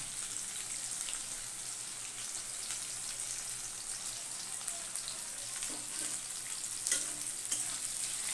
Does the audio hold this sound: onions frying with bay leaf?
yes